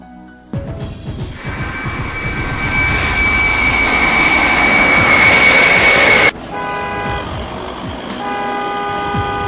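A jet airplane takes off with a loud, building engine roar and a high whine that swells steadily, then cuts abruptly into a different steady tonal hum near the end.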